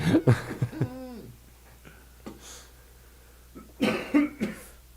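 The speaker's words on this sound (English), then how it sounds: "he's coughing over there" Several coughs ring out in quick bursts, close and fairly loud, with a quieter throat-clearing cough in between and faint background hum.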